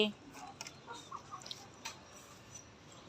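A mother hen of a native breed clucks softly in short scattered bursts against quiet outdoor background, faint and somewhat distant.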